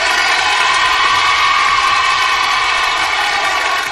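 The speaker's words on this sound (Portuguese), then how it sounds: "Aplausos, Brasil." A studio audience on a Brazilian TV show roars with continuous, loud, even applause and cheering that fills the whole stretch without letting up.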